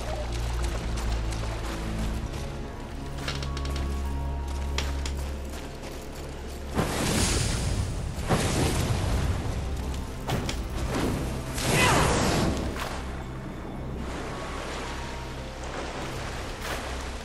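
Fury's fire form doused by water in Darksiders 3's Boneyards: a steady gushing, pouring water rush with repeated swooshing flare-ups and louder splashy bursts in the middle, close and continuous.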